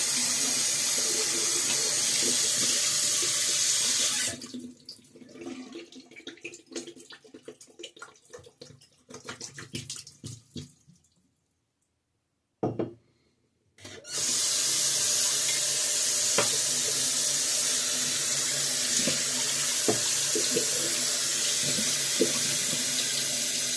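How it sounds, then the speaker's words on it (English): Tap water running into a bathroom sink to rinse shaving lather down the drain, a loud steady rush that drops to softer splashing and trickles, goes briefly silent, then resumes at full flow. "I hate wasting all this lather, but down the drain it goes"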